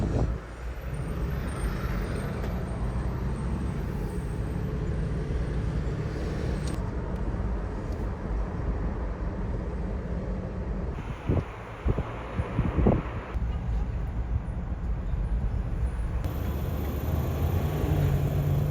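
Toyota 4Runner cruising the Las Vegas Strip at night, with a steady close road rumble and wind noise inside the cabin, passing traffic, and a few brief knocks midway.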